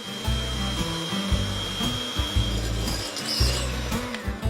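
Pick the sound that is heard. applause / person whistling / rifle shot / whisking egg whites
whisking egg whites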